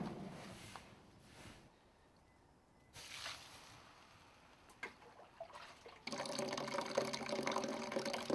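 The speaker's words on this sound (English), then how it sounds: "Straw is burned, and cool or hot water is poured over the embers." Water poured over burning straw embers for making lye in traditional Kanazawa gold leaf work, heard as quiet splashing and trickling in short bursts, building to a steadier, louder pour near the end.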